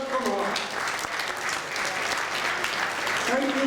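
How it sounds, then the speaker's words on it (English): Guests at a London annual dinner applaud to welcome someone, a continuous round of clapping across the room, with a voice speaking over it at the start and end. "Can you give a big clap to her and welcome her?"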